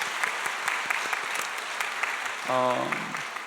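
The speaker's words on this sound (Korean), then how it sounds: "우리의 아버지들, 어머니들 한번 축복하는 박수를 한번 쳐보겠습니다" A church congregation claps together to bless the fathers and mothers during a Sunday service, a soft, fairly distant wash of steady applause, with a brief tonal vocal sound near the end.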